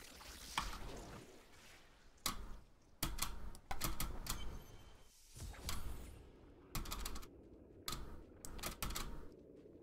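A computer keyboard spacebar clacks during a Diablo III: Reaper of Souls speedrun, with close, sharp clicks coming in irregular bursts and short runs over a quiet background.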